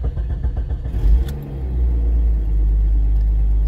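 A 1997-2001 Jeep Cherokee XJ engine cranks briefly and then catches, settling into a steady, loud, close idle rumble with no talking.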